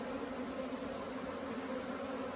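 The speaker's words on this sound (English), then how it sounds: "I would shake the bees into the box here" A steady, droning buzz of a swarm of bees being shaken into a Layens hive box, constant and fairly close, with no voices.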